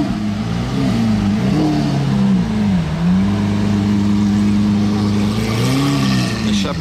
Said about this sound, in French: Échappement Capristo.